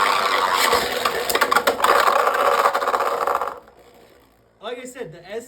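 Beyblade Burst tops with the DK combo launched and spinning, clashing loudly in a stadium as a steady whirring rattle with sharp hits, then cutting off, followed by a voice talking.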